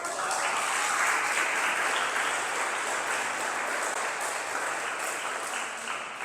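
A crowd applauds steadily, a dense wash of clapping hands that swells slightly and then slowly tapers.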